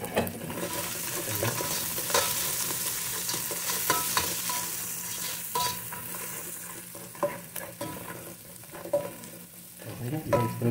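Onions sauté in a hot pan, a steady close sizzle and frying hiss with repeated scrapes and taps of a utensil stirring throughout, no voices.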